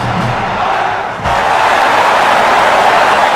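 Stadium crowd in a FIFA football video game, a dense, loud, continuous roar from a capacity crowd that swells briefly, steady and enveloping with no clear breaks.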